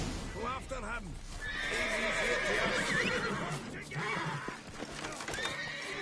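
A horse in The Witcher 3 video game whinnies clearly while its hooves clip-clop nearby. A voice talks over the whinny.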